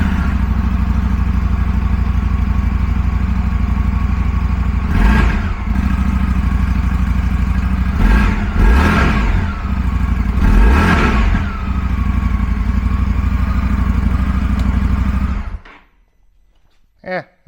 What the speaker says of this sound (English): let's bring a stock one over here real quick and fire that up